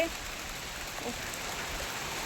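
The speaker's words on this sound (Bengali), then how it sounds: "আমি কিন্তু বৃষ্টিতে ভিজছি" Steady rain falls outdoors in a soft, continuous patter, fairly faint and even throughout, with no clear talking.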